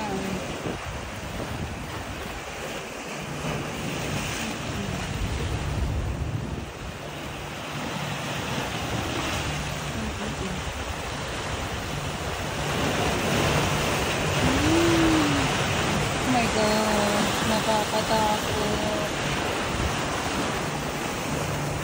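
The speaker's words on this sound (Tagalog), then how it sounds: "Ay, lakas na ng alon guys." Strong sea waves wash and surge steadily around Tung Lung Chau island, mixed with wind buffeting the microphone and swelling slightly louder toward the end.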